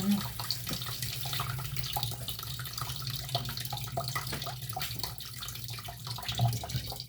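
Quiet, continuous weak stream of low-pressure tap water running into a sink, with a low hum beneath and faint clatter.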